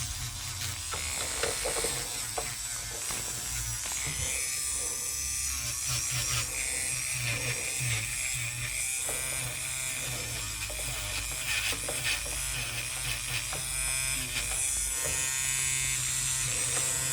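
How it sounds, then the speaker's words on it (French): An electric nail file sander fitted with an emery bit buffs gel nails, a continuous high-pitched motor whine with a buzzing grind that shifts slightly in pitch throughout, close and steady with no talk. "si vous utilisez l'embout émery, il faut mettre votre ponceuse à une vitesse basse"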